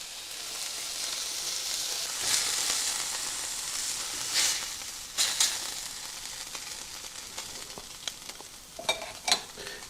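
Pork carnitas browning in a hot pan give a steady sizzle and frying hiss throughout, with occasional louder spits and pops and light stirring scrapes near the end; no one talks.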